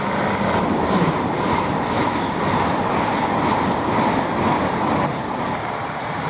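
A late-running Great Western Railway IET intercity train, diverted from Carmarthen to London Paddington, rushing through Goring & Streatley station on the Great Western Main Line as a steady, loud broadband roar that holds for the whole stretch.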